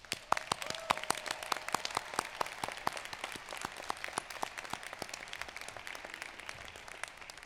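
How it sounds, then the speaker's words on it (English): Sparse, fairly quiet clapping at a university honors college spring commencement, with distinct individual claps in a loose rhythm from a small number of hands, briefly joined by a faint steady tone near the start. "Please join me in a round of applause for these graduates."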